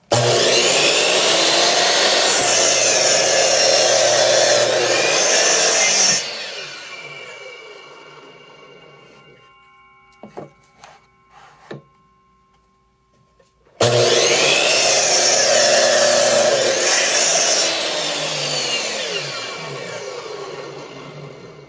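A saw cuts through a small wooden block for a tiny heart-shaped box, giving two long, loud, rasping cuts separated by a quiet pause broken by a few clicks and knocks.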